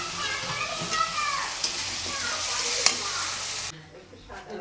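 Taro and eggplant fry in a hot pan, a loud continuous sizzle with stirring scrapes and a few sharp clinks, before the sizzle suddenly drops to near quiet.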